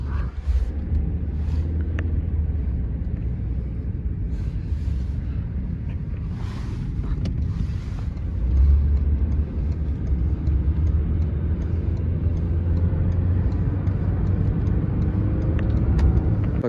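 A car driving, heard from inside as a steady low engine and road rumble with faint rattles and occasional light clicks, continuous throughout without speech.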